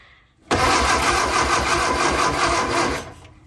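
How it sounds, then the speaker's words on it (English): An old barn-find Austin-Healey Sprite engine cranks over when the starter cable is pulled, a loud, steady churning burst lasting about two and a half seconds before stopping. "if I pull that, it should turn the engine over"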